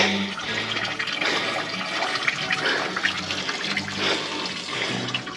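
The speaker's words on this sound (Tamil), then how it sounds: "எப்படி தண்ணி வருது பாருங்கள். மேலேருந்து வர்றத டியூப் போட்டுங்க பண்ணியிருக்காங்க" Water gushes and splashes steadily from a pipe carrying mountain water down a roadside near Hallstatt, a constant loud rushing flow with slight surges, no voices.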